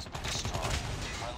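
AK rifle fire in Call of Duty Mobile, a dense, continuous burst of rapid gunshots at a moderate level, with muffled voice chat underneath.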